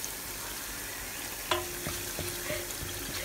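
Fennel seeds frying in hot oil for a prawn curry, giving a steady soft sizzle with a few brief clinks and stirring knocks partway through.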